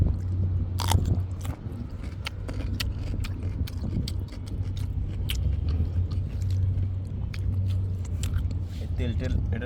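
Crisp bites and chewing of raw cucumber eaten alongside fish at an outdoor riverside meal on the Padma bank near Pakshi Bridge, Kushtia, close and repeated under steady conversation and low background hum.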